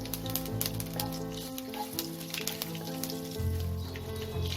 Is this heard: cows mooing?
no